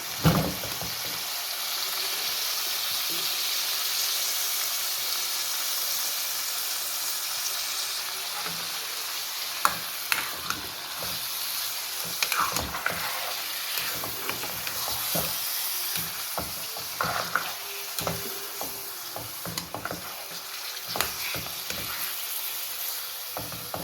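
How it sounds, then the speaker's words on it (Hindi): Chicken frying in a pan for chicken kaddu, a steady close sizzle with occasional stirring scrapes and clinks throughout. "इसमें हमने चिकन डाला है, इसको फ्राई करेंगे, थोड़ी देर फ्राई करेंगे"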